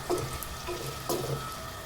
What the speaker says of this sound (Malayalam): ഇപ്പം നല്ലോണം ഒന്ന് പൊരിച്ചെടുക്കാം.